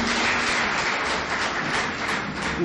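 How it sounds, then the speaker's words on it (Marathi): An audience at a public speech in Mumbai claps together, a dense, even wash of applause that holds steady and loud throughout. "आपण टाळ्या वाजवून त्याचं कौतुक केलं पाहिजे"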